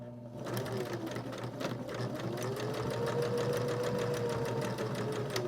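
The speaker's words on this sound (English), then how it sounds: "I'm going to stitch forward a little bit, back stitch to make it" A sewing machine runs a straight line of stitches across fabric, a steady close mechanical whirr with a rapid needle rhythm that carries on continuously and alone.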